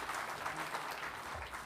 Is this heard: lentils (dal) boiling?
no